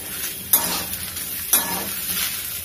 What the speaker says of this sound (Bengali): এগুলোকে ভালো করে নেড়ে চেড়ে নিচ্ছি।